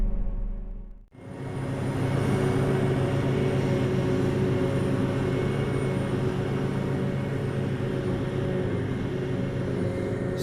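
A 780-horsepower combine harvester engine runs on a sheep farm, a loud steady low drone with a deep rumble that kicks in after a brief dip at the start and holds evenly throughout.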